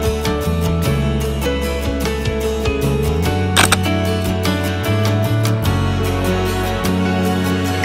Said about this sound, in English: So all I have to do is press the shutter